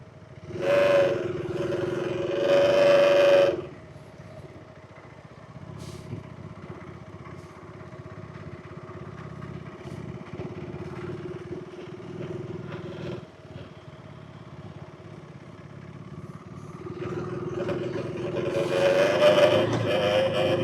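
Motorcycle on a steep Himalayan mountain road between Sarahan and Chitkul, with loud revving bursts at the start and end and a low, steady engine drone between them, alone without talk.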